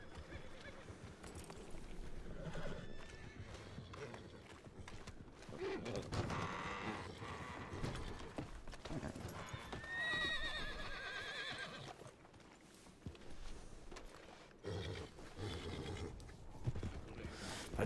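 Horse neighing and whinnying mixed with clip-clopping hooves in the Red Dead Redemption 2 western game world, the sounds recurring over a steady layered game soundscape at moderate volume.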